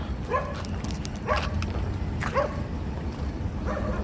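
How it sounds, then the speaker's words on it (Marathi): A dog yips and barks in short bursts at a roadside bus stop during a travel break, a few sharp calls spaced about a second apart over steady engine and crowd rumble. "इथे एक डॉगी आहे"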